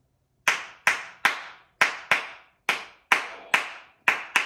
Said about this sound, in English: Can I see you clap your hands?